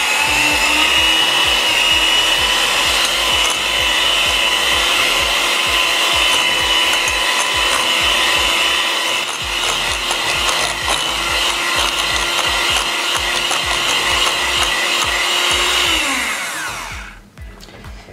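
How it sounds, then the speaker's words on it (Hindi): An electric hand mixer runs steadily, whirring loud and continuous as it beats powdered sugar into tea cake batter, then winds down and stops near the end. "अब इसको अच्छे से बीट कर लेंगे जब तक कि इसका कलर चेंज ना हो जाए"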